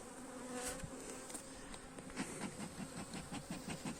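Honeybees buzzing steadily as a beehive is opened and checked, a dense, continuous insect drone close by with a faint pulsing rhythm toward the end.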